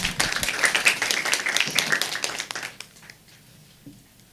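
Audience at a live forum on women's access to justice in Africa bursts into dense applause that holds for a couple of seconds, then thins to scattered claps and fades into quiet.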